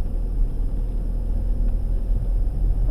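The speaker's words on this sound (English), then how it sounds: "We're just doing a little bit of off-roading in the backfield." A 1998 Mitsubishi RVR drives off-road across a back field, its engine a steady low rumble and road noise close and continuous throughout, with no talking.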